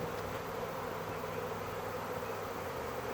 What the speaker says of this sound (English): Right here you can see thousands of bees in the air.